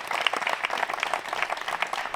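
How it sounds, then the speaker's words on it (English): Crowd at a disc golf tournament, the Konopiště Open, applauding a shot; a steady, moderately distant ripple of clapping runs throughout. "well-deserved applause"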